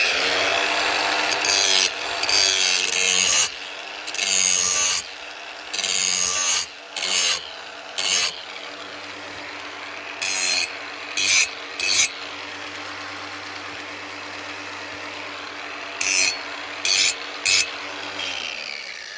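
The dull blade of a Troy-Bilt TB110 lawn mower is sharpened along its edge, making loud, harsh rasping bursts in an uneven stop-start rhythm with short gaps, up close and with no talk.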